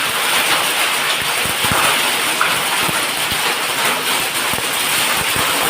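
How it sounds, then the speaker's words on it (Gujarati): Hail pours down in a full thunderstorm, a loud, dense, unbroken clatter of stones striking surfaces close by, with sharper knocks scattered through it and no voices. "કેટલા કરા પડે છે"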